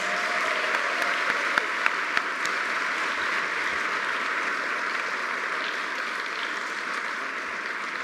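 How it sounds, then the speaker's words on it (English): Steady applause fills the room at an awards dinner, a dense wash of clapping from a crowd that holds at an even level throughout. "Maybe we can have another round of applause for our 4 honorees."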